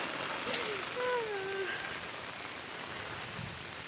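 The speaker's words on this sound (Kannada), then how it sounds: "ಯಪ್ಪ ಈ ಮಳೆ ನೋಡ್ರಿ ಇಷ್ಟೆಲ್ಲ ಬೀಳ್ತಾ ಇದೆಯಪ್ಪ" Heavy rain pours down in a steady, dense hiss throughout, with a brief faint voice-like tone early on.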